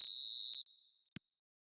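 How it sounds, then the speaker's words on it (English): A referee's whistle in the eFootball video game gives one long shrill blast that starts a match, followed by a short chirp, then silence. "There's the whistle, and here we go."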